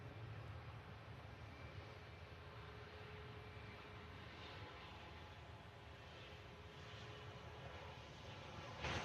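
Airliner arriving from Amsterdam, heard from a runway-side visitor park: a distant, steady jet roar that holds faintly throughout and swells slightly at the very end, with no talking.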